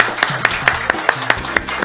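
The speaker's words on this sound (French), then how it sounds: "merci d'accueillir et d'applaudir Neila Elahi" Rhythmic clapping from a studio audience at a French-language student quiz show, with regular claps in a steady beat over a low background murmur.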